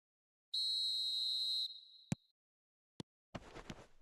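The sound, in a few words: referee whistle for kick-off, from a FIFA video game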